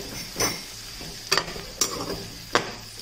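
Capsicum pieces frying in a pan for vangi bath, with a steady sizzle and four or five sharp scrapes of a spoon stirring through them, close and fairly quiet.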